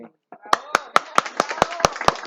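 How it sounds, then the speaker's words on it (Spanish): Church congregation at a Sunday service applauding a newly baptised member: crisp, evenly spaced claps, about nine in a row, loud and close, starting after a brief murmur of voice. "un aplauso para Juli."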